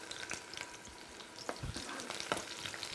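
Sliced garlic frying in ghee and oil for an okra dish, a soft, fairly quiet sizzle broken by a few sharp crackles and stirring clatters.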